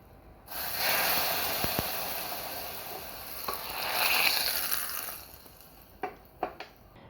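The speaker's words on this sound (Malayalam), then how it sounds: "ഇനി നമുക്കിതിലേക്ക് താളിച്ചിടാം" Tempering spices sizzle sharply in hot oil for a stingray fish curry, a loud frying hiss that swells, crackles with pops, then fades to a few spatters.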